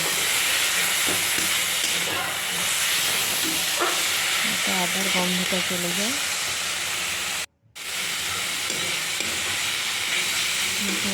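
Ginger paste frying with bete greens in a pan gives a steady broadband sizzle and hiss throughout, broken by a brief dropout near the end, while someone talks over it.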